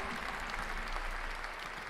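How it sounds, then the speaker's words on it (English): Applause from a crowd in the Sucker For Love video game, a steady dense wash of clapping, moderately quiet and continuous throughout. "They're clapping."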